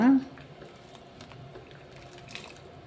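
Upma water with green chillies bubbling at a low, steady simmer in a pot, a faint, continuous boil with no break.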